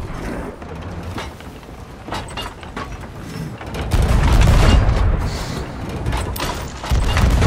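Ship cannons firing in the video game Sea of Thieves, a series of heavy booms and rumbling impacts, growing louder and denser in the second half, without talk.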